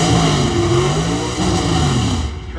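S10 pickup truck on an Astro van chassis launching at a drag race, a loud revving engine roar climbing in pitch as the truck pulls away, fading toward the end.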